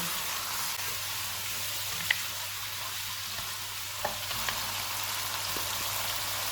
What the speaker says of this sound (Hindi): 700 ग्राम मटन, चूल्हे को मीडियम टू हाई रखेंगे। इनको 4 से 5 मिनट तक भूनेंगे।